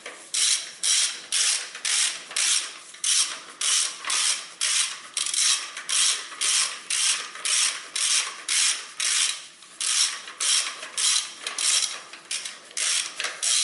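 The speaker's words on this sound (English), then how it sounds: "Now I take my tool, and then I fasten that, these bolts." A ratchet with a long 17mm socket tightens bolts during a timing belt job on a 1992 to 2005 Honda Civic engine, making a steady run of rapid, raspy clicking strokes about two per second, close and loud, without talk.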